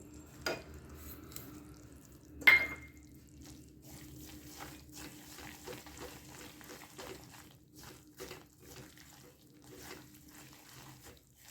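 Peanuts and sesame seeds being stirred into melted jaggery in a pan for tilgul vadi, a soft stirring and faint sizzle with a couple of sharp scrapes of the spoon against the pan early on, fairly quiet throughout.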